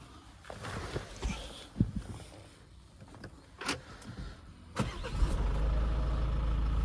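A Peugeot 508 engine cranks and starts after some clicks and handling noises, then settles into a steady low idle that continues to the end.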